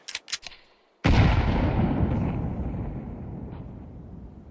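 A grenade explodes in a shooter video game after a couple of quick clicks, giving one loud, close boom whose rumbling tail slowly fades over several seconds.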